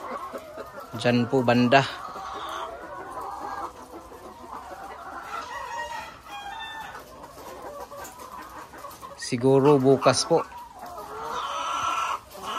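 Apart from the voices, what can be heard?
layer chickens clucking in layer building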